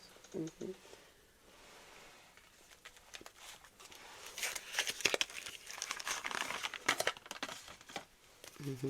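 Tarot clarifier cards are pulled and shuffled from a deck, giving close, crisp papery crinkling and flicking that builds into dense rustling bursts mid-clip, with quiet pauses between.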